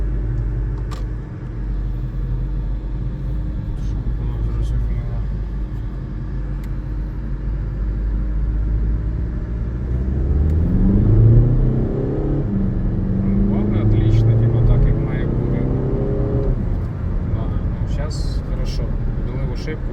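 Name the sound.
car accelerating during a test drive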